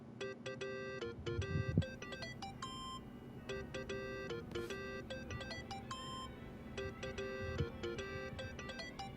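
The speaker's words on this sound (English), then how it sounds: "Think that's your phone, man." A mobile phone rings in the video game Yakuza 7, a repeating electronic ringtone of bright, stepped beeps over a low background hum, faint and continuous throughout.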